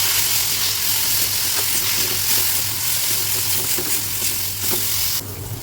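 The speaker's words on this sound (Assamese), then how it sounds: "এতিয়া বইল কৰা আলুখিনি দি পেলাই এতিয়া মই অলপ ভাজি 5 মিনিট সময়।" Boiled potatoes and tomatoes frying in a pan while koi fish curry is being cooked, giving a steady close sizzle with light scraping stirs and an abrupt brighter hiss near the end.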